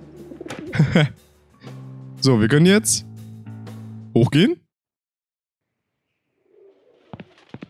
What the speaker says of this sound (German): Und diese Tauben sind sehr hungrig und aggressiv.